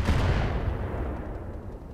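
Mortar fire in the mech video game Roguetech, a single deep booming blast that hits hard and rolls off into a fading low rumble, no voices over it.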